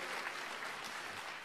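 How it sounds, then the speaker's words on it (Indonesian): A church congregation claps together during an online worship service, a steady, faint wash of applause holding evenly throughout with no voices over it. "Berikan tepuk tangan yang paling meriah buat Allah kita."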